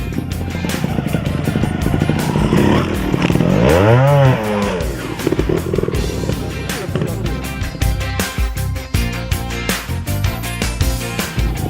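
Francesc Moret's trial motorcycle works a course, its engine revving in sharp bursts that swell and drop as the throttle is blipped, loud and close, with sputtering idle between surges.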